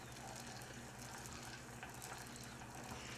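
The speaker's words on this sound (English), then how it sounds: "I have a stick of butter melting in this little saucepan" A stick of butter melts over medium heat in a small saucepan, giving a steady, soft, continuous sizzle and crackle that holds even throughout, with no voice over it.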